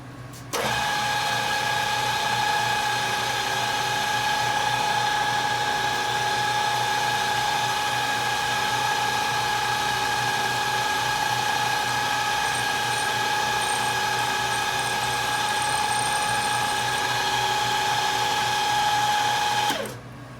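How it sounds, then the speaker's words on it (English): A steady high-pitched whine of a small solid carbide drill bit drilling hardened stainless steel, running continuously for about twenty seconds, close and loud, with a constant mechanical hum underneath. "Teeny tiny drill bit."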